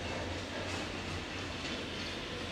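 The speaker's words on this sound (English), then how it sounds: "The sound of that train is just really cool." A train passing on rails beside an old train depot turned antiques shop, a continuous steady rumble of wagons rolling by at moderate volume with faint rhythmic clatter, without any talk.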